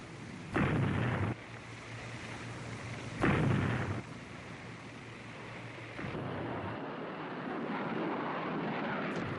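US military aircraft attacking transportation targets in wartime Vietnam: two loud, short roaring bursts of jet or blast noise stand out over a steady low rumble, followed by a sustained broadband roar that builds toward the end, with no talk.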